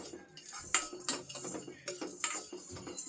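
Cumin seeds and pepper are dry roasted in a pan, with a spoon or spatula clinking and scraping against the metal in quick, irregular strokes. The sound is close but quiet, with no speech.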